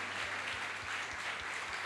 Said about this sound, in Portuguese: Vamos aplaudir a Jesus, queridos.